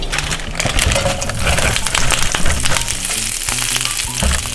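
Spinach sizzles in olive oil on a skillet over medium-high heat, a loud, close, steady frying hiss with crackles and occasional soft clinks and stirring noises.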